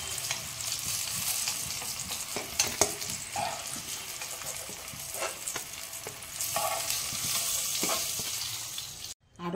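Hilsa fish paturi wrapped in gourd leaves sizzles steadily in a hot pan, a continuous close hiss with occasional soft scrapes and clicks of stirring, ending in a brief pause.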